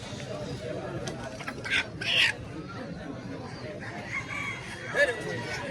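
Native chickens and ducks cluck and squawk in short bursts amid a busy outdoor crowd at a morning village market in Bangladesh, with people chattering around them.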